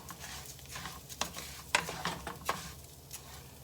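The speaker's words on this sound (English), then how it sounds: "And always stir your rice," Rice being stirred in a pan as it browns, with a soft frying sizzle and several scraping strokes of the spoon close by.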